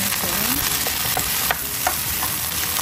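Vegetables with bok choy sizzle in a pan while a utensil stirs them, giving a constant frying hiss with a few scraping clicks and no speech.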